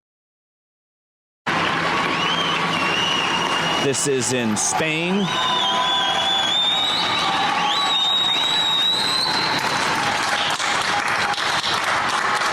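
Crowds in Spain cheer and clap for healthcare workers at shift change, a dense, steady wash of applause with whistles and shouts that runs throughout, with a voice speaking over it.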